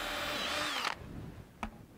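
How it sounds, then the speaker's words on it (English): Power drill boring out bolt holes on a boat trailer, a loud whining motor that pitches down as it bites, then cuts off, followed by a short sharp burst and quieter handling noise. "I'm gonna drill these out just a little bit."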